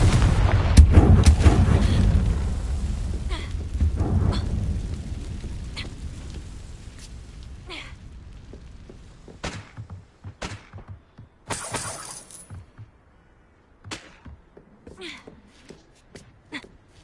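A Confringo spell explosion in the video game Hogwarts Legacy, with a heavy, booming blast and rumble fading over several seconds, followed by scattered clattering debris and sharp crackling impacts.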